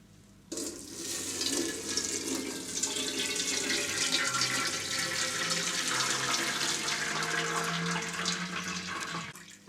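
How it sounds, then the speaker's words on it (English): Hot tofu liquid poured through a strainer into a larger pan at home, a steady close rush of splashing liquid that starts abruptly and runs evenly for several seconds. "So I'm going to strain this off into the larger pan"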